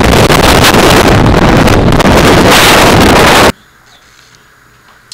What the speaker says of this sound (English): This is crazy! Crazy windy!